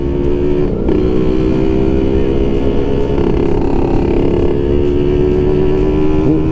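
Kawasaki KR150 two-stroke motorcycle engine droning loudly and steadily while riding through town and overtaking, with wind noise and brief speech over it.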